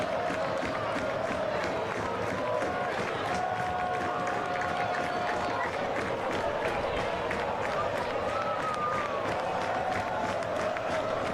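A soccer crowd at Keyworth Stadium for Detroit City FC against Loudoun United rises during stoppage time, a steady dense roar of cheering and clapping with a commentator talking over it.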